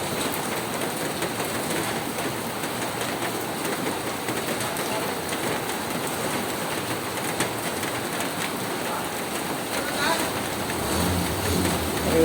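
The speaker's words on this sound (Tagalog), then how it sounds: "Rainy na guys." The first rain after a long dry spell falls in Manila as steady, dense hiss of drops on surfaces, continuous and fairly close throughout, with no speech.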